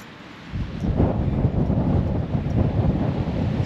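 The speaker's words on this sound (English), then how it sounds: "It's a bit windy round here." Strong wind blows across an exposed coastal path on the English coast between Maryport and Harrington, buffeting loudly and continuously after a brief quieter start.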